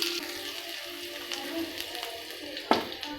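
Onions frying in a pan with spices, a soft steady sizzle with light crackling and a sharper spatter near the end, close and fairly quiet.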